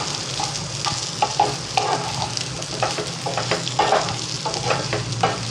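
Amla (Indian gooseberries) roast in a pan for chutney with a close sizzle as a spoon stirs them in quick, repeated scraping strokes that rise and fall without pause; no one talks.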